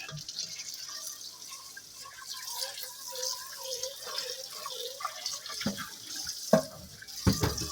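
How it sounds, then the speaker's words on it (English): A pot being rinsed under running tap water to wash out berry seeds after jelly making, with a steady faucet flow, splashing and a few louder knocks of the pot near the end, close by, no talking. "now I'm gonna rinse this pot out to get all the seeds and stuff out of it"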